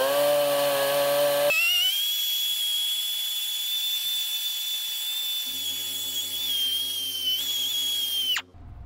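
A band file running a coarse non-woven abrasive belt over metal, blending grind lines in an inside corner; a steady high whine holds for about eight seconds, shifting pitch partway through as it loads against the workpiece, then cuts off abruptly.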